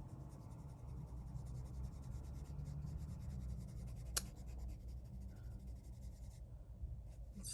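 A Derwent Inktense watercolor pencil colors on paper, giving a soft, steady scratching and rubbing close by. It runs continuously with one sharp tap partway through, and nobody talks.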